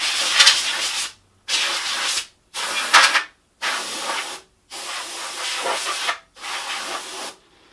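Six hissing bursts of compressed air blast water off a freshly painted Traxxas Slash 2WD body in a steady rhythm, each about a second long with short silent gaps between.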